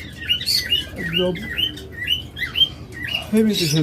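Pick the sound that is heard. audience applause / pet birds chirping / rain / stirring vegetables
pet birds chirping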